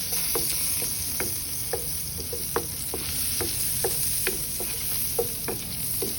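Oil and butter sizzle steadily in a pan with pork chops, a continuous frying hiss dotted with small pops and spatters, no talking.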